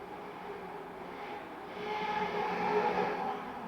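An MJX 7304 Polo 1/7 scale RC car's small motor whines steadily with a rough, buzzy edge from a fault, growing louder and harsher partway through as it speeds up, with no talking.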